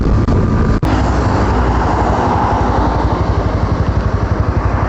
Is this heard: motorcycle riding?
yes